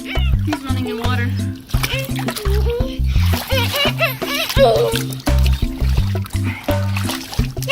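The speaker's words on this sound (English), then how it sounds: "He's running in water." A child runs and kicks through swimming pool water during a first swimming lesson, with repeated splashes and sloshing, while a child and an adult talk over the splashing and background music.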